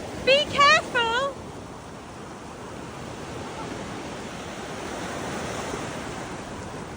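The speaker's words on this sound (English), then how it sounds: "The waves." Waves breaking and washing up on a beach, a steady broad roar with some wind buffeting the microphone, briefly joined near the start by a high, wavering voice or squeal before the surf continues alone.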